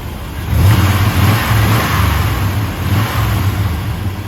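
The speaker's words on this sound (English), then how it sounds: "So go ahead and rev it up a little bit." A 1996 Chevrolet Silverado pickup's engine revs up sharply and holds a steady, rumbling idle-to-rev drone nearby, loud and alone without any talking.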